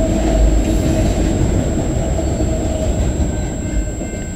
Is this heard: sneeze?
no